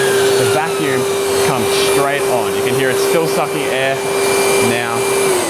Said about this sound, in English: the vacuum itself comes straight on the moment it detects current coming through it from a sander